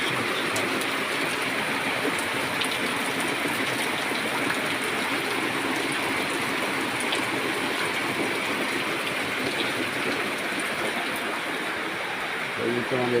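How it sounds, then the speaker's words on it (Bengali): Heavy rain falls in a constant, loud wash while floodwater rushes steadily in front of a house, a continuous roar with no breaks. "কি হারে বৃষ্টি হচ্ছে।"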